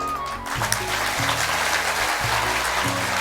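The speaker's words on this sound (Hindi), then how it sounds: "तालियां" Loud, steady applause from a crowd at a spiritual discourse, continuous throughout with a low rhythmic musical drone pulsing underneath.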